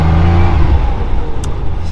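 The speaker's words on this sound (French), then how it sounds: "là on est sur un moteur atmosphérique. Ce qui prend 6000 tours." A 1975 Porsche 911 Targa's naturally aspirated engine revs loudly up close, a brief strong burst of engine note without talk.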